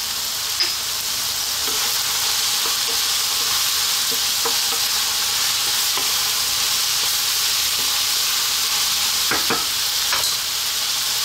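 Oregano, sweet paprika, chili and cumin powder sizzling in a hot pan, a loud continuous frying hiss with scattered spoon taps and scrapes as the spices are stirred.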